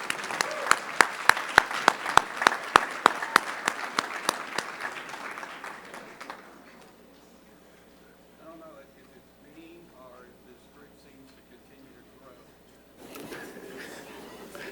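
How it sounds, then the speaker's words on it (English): Audience at a school district board meeting claps for students being recognized, strong sharp applause for about six seconds that fades out, followed by quiet speech and a brief return of clapping near the end. "Let's give all of these students a big round of applause for their recognitions."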